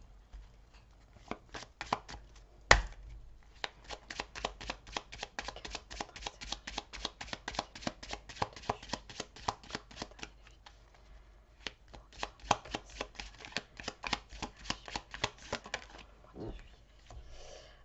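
Tarot playing cards are shuffled close by in long runs of fast crisp riffling clicks, with brief pauses and a couple of sharper snaps as cards are handled and laid out.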